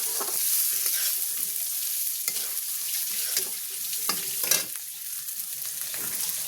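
Cumin seeds sizzle in hot oil for a kakrol (spiny gourd) curry, making a continuous close frying hiss with occasional stirring scrapes and crackles throughout.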